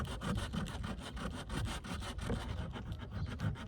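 Wood is sanded by hand in quick, even back-and-forth scratchy strokes, close up and continuous, with no talk.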